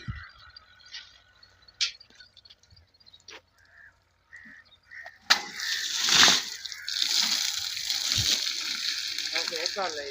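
Water splashes and gushes over solar panels being washed, starting with sparse faint sounds and voices, then a louder continuous spray and splatter, with people talking nearby.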